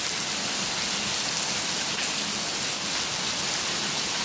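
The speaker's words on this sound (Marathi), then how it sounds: "आज आमच्या इकडे पाऊस सकाळी आलाय" Steady rain pours down in a continuous hiss, dense and even throughout, with no voices or other sounds breaking through.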